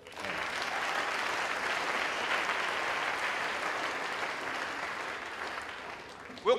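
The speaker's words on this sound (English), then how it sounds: "Let's give him a clap." A church conference audience claps steadily for several seconds with a broad, even wash of hands that fades slightly near the end before a sharp noise.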